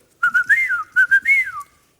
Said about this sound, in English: When you've finished and got your money, you whistle.